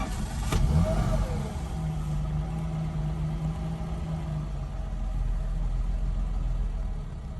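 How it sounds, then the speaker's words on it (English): A warm 1954 Mercedes-Benz 220 Cabriolet A engine cranks and catches, then settles into a steady low rumble that runs on evenly, with a slight swell midway. "Once a car is warm, it fires right up."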